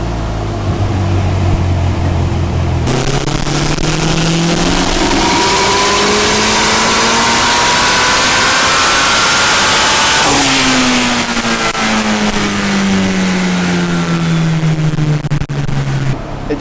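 Turbocharged Toyota 4A-GE engine of about 400 hp revving at full throttle on a dyno, a loud sustained climbing howl that rises steadily, then drops and falls away, with no pauses.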